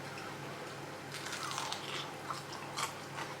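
Several crisp crunching bites into a crispy roast potato close to the mic, brief and irregular, over a steady background hum.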